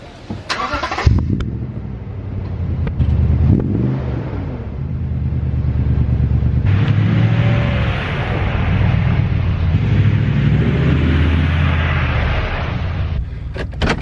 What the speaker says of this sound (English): there was a little bit of a drive-by for you, just to kind of hear what the exhaust sounds like outside